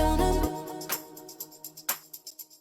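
Layered clap samples in an EDM mix, entering after a sustained bass chord fades: a few sharp, bright claps with short tails spaced through a quiet bed of rhythmic ticks.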